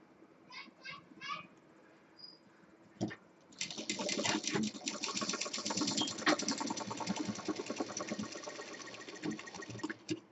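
Close sewing machine stitching a Rajasthani jhola bag, a dense buzzing run starting a few seconds in and continuing to the end, preceded by a few short bursts of a voice and a brief knock.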